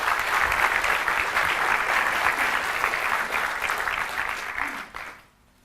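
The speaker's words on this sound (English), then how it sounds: "Can I get a round of applause for that?" An audience at a tech conference talk claps in a steady, dense round of applause that holds for several seconds, then tapers off and stops near the end.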